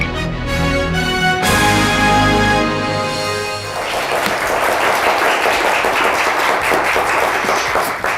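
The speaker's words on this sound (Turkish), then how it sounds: "Alkışlar Gürbüz Bey için" A television game show's theme music with sustained tones plays, then a studio audience breaks into dense, steady applause that continues alongside the fading music.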